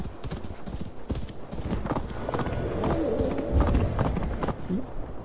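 Horse hooves clip-clopping at a steady riding pace in the video game Assassin's Creed Valhalla, close and continuous, with an occasional whinny and game ambience beneath.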